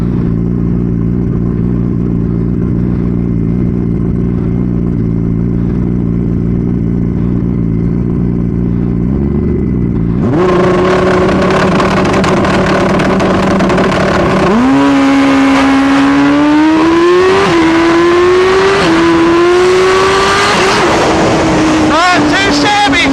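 A turbocharged Hayabusa motorcycle idles with a steady drone, then launches hard with a loud burst and screams up through the gears, the pitch climbing and dropping with each shift as it pulls away.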